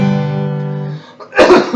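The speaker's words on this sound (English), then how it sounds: "Again, I apologize for the cough" A single cough at a Shabbat morning service, a short rough burst near the end that follows a sustained sung or chanted voice, close and fairly loud.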